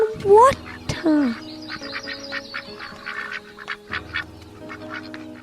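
A duck gives a few loud, close quacks in quick succession at the start, followed by quieter calls and background bird noise.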